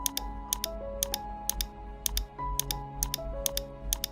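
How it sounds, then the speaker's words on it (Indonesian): Computer keyboard arrow keys tapped while moving around a map in SASPlanet satellite imagery software: sharp, close clicks in irregular bursts over a faint steady background tone, with no voices. "Kalau mau geser tinggal pakai keyboard yang up, down, left, right."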